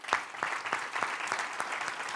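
An audience at an annual meeting claps in a sustained, dense round of applause, steady and fairly close, with faint voices beneath.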